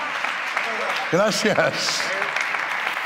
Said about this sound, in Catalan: un aplaudiment molt fort